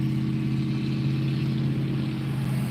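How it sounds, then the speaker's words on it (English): A big noisy truck rolls past on a road during a total solar eclipse, its heavy engine drone loud and close, a steady low rumble that holds throughout without a break. "Big noisy truck."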